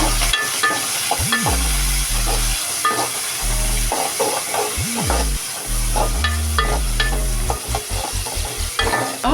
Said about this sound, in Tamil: வெங்காயம் போட்டுட்டு அதை கிண்டி விடுங்க.